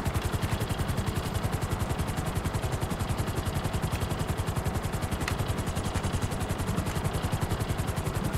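A Sparrow helicopter flies in GTA Online, its rotor chopping in a fast, steady, loud rhythmic thud that fills the whole stretch with continuous beating over engine noise.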